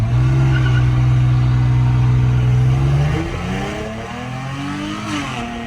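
Dodge Challenger V6 SXT with a 3.6L engine and Borla ATAK exhaust revving up close: a deep, steady droning rev held for about three seconds, then the engine drops back into a lower, rumbling idle.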